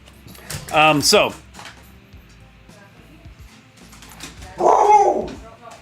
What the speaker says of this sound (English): Sorry, I'm competing with a very manic dog right now.